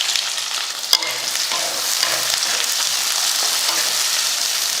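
Whole peeled onions frying in a pan as they are stirred, a loud, continuous close sizzle with one sharp utensil knock near the start and soft scraping throughout.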